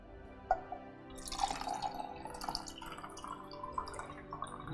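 Tap water poured onto sesame oil, a faint trickle and splash with small drips, starting quietly and then swelling into a soft continuous pour, close and without talk.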